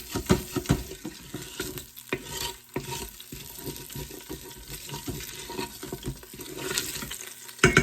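Steak bites frying in olive oil inside an Instant Pot, with irregular stirring and scraping clatter over a steady sizzle, close and moderately loud, no talking.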